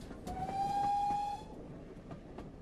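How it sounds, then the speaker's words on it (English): Railway sounds of a steam train: a brief, distant whistle-like tone that sustains for about a second, with faint rhythmic clanks and clicks in a quiet background. "he used to listen and hear the trains making all these noises"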